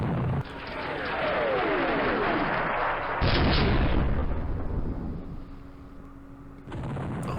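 A recoilless rifle fires in the Campaign Series Middle East game at the Battle of Port Said, a heavy booming blast that rolls into a long, loud rumbling tail and then fades, with another burst cutting in at the end.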